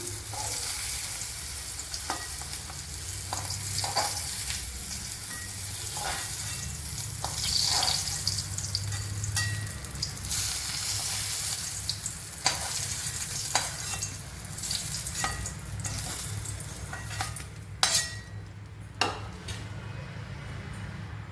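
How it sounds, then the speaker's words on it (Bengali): Pieces of pointed gourd sizzle steadily in a hot pan, with frequent scraping stirs and clinks of a utensil; no voices. "পটলগুলো আমার লাল করে ভাজা হয়ে গেছে"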